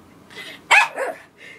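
Dog barking a short, two-part vocal sound, a sharp yelp-like bark followed by a softer trailing call, close and clear in a quiet room.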